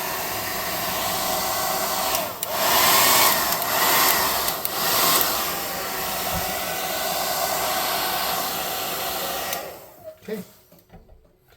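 A hair dryer runs loud and steady for about ten seconds, drying painted Element X puddle props for a tabletop game, then switches off and winds down; a voice speaks briefly.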